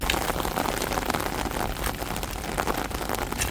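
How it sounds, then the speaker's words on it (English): Rain falls steadily in Florida, a dense, even patter on surfaces all around, continuous and fairly close with no voices. "Finally raining down here in Florida."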